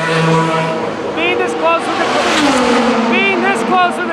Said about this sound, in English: the drivers are pretty much doing like practice laps and then pulling into the pit, and the guys are tweaking the car, making adjustments